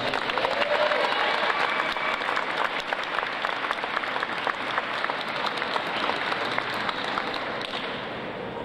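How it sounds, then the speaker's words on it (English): Applause for contest winners at a hospital dance competition, a dense, sustained round of clapping from a large crowd that holds steady and then eases slightly at the end. "let's have a round of applause for our winners"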